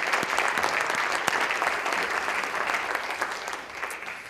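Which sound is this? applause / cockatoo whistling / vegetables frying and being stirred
applause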